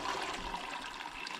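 Hot water sloshes and gushes as a freshly caught chicken is dunked to loosen its feathers for plucking, a brief, steady watery rush heard close up with no talking.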